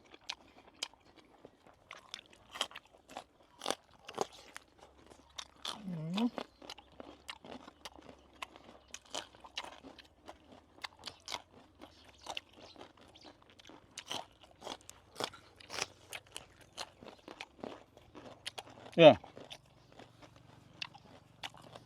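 Close, steady chewing of cooked conch shellfish meat, with repeated wet crunches and bites spread across the clip and a couple of brief murmured vocal sounds between mouthfuls.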